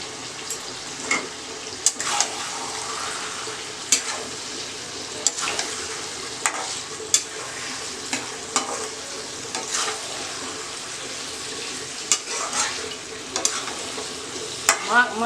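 Mutton curry ingredients are mixed in a pressure cooker pot: repeated close scraping and clunking strokes at an irregular pace over a soft background hiss, with no talking.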